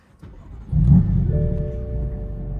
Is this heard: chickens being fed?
no